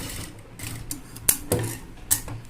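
A sewing machine stitches a folded hem on a pant leg, making short bursts of mechanical whirring with a few sharp clicks and taps, close and moderately loud, with no voices.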